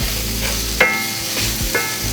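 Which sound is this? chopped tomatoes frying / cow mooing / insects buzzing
chopped tomatoes frying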